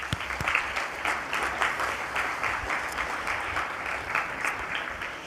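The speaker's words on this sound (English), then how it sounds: "Let's give her a round of applause." A banquet audience applauds after dinner music, a dense, steady clapping from many hands in a room that holds at an even level for several seconds without fading.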